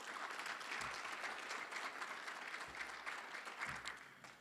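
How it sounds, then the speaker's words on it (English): A forum crowd in Indianapolis claps for its guest speakers, a faint but continuous spread of applause with a couple of low thumps under it. "let's give all of our guest speakers a round of applause"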